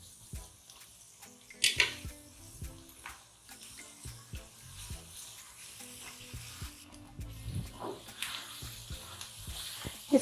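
Ginger-garlic paste frying with onions in a pan for beef balti gosht, a continuous soft sizzle broken by repeated scraping and stirring knocks, close and fairly quiet.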